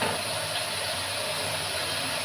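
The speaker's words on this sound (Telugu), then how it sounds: "ఆలు ముక్కలు ఇలా వేసేస్తాం. కొంచెం వేగాలండి." Potato pieces frying in a hot pan for a ridge gourd, potato and chana dal curry, a steady loud sizzling hiss without pause, no talking.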